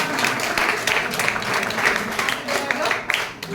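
Loud, sustained applause from the audience at a Diwali gathering at Om Shanti Bhawan, Raebareli, a thick dense clatter of many hands with brief bursts of crowd voices.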